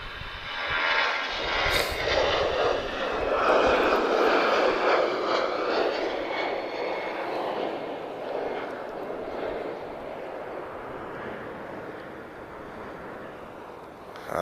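An EasyJet Europe airliner at Lisbon Airport, bound for London Gatwick, roars steadily as a broad engine rumble that swells early on and then holds. It is fairly loud and continuous, with no talk over it.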